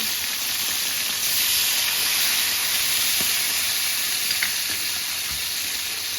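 Pork ribs stir-fry with sesame oil and mirin in a hot pan, giving a loud, steady sizzle and hiss with a few faint scraping stirs.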